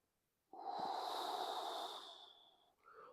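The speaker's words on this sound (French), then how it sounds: "On inspire à fond." One long, deep breath is drawn in audibly through the nose during a seated breathing exercise, steady and close for about two seconds before easing off.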